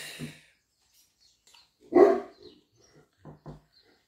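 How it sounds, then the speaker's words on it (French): A dog barks once loudly, followed by a few fainter, shorter yips in a quiet room. "Désolée pour mon chien qui gueule."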